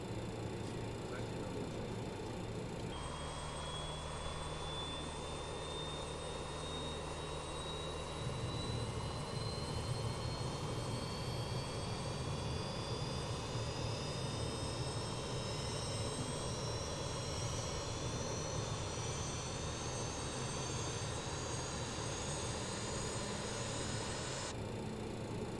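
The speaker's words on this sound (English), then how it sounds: "So engine number 4, and start." A BAe 146 jet engine spools up in Microsoft Flight Simulator 2020, a steady roar with a rising whine that climbs slowly in pitch over about twenty seconds.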